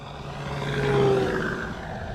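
An E-Flite Carbon Z T-28 RC plane makes a low pass. The propeller and motor give a continuous buzzing drone that swells and then eases off, heard alone.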